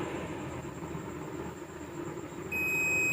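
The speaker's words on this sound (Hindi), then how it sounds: "देखिए ये बीप कर रहा है, यानी ये स्पीकर हमारा ठीक है।" A digital multimeter on continuity test gives a steady, piercing electronic beep that starts abruptly near the end and holds, over a constant low background hum.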